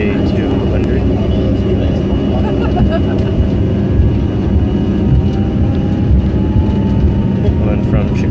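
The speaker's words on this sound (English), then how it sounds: "Chicago O'Hare International Airport, CRJ-200." United CRJ-200 regional jet taking off at Chicago O'Hare, heard from inside the cabin: a loud, steady engine roar fills the whole stretch with only slight swells, and a voice seems to mix faintly into the din.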